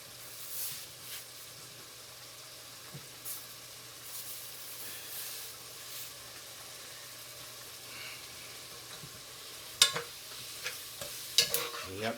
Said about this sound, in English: You have to keep a stir on this meat, because you don't want it to stick to the bottom of your pot.